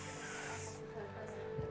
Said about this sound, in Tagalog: advisable na lagi may dalang pepper spray sa bag, lalo sa mga kababaihan